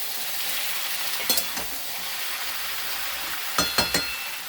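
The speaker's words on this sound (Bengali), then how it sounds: "সব দিয়ে ঢাকা দিয়ে ভাজবো খালি।" Bitter gourd, long beans and pumpkin fry in a covered pan with a steady soft sizzle, and a few light clinks of the lid or utensils break in.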